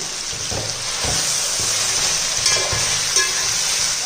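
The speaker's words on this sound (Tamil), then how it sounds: "இப்போ இதையும் நல்லா வதக்கிக்கிறோம்ப்பா." Ingredients sauté in a hot pan for a weight-loss diet biryani, a constant hissing sizzle with periodic clinks and scrapes of a stirring spoon, close and fairly loud.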